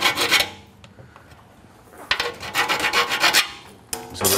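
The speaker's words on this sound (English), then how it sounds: "so it's just filing it flat on the sides" A hand file rasps against a metal exhaust header part from a C7 Corvette Z06 long-tube header install, in close, loud bursts of back-and-forth strokes separated by a short pause.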